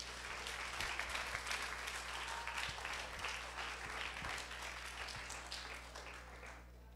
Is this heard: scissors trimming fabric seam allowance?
no